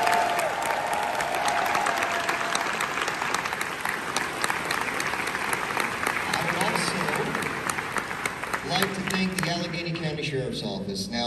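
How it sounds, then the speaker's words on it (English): Round of applause from a crowd for the DLCC folks at a closing ceremony, a dense wash of many hands clapping, steady and loud, with voices rising near the end. "Let's give one huge round of applause for the folks from DLCC."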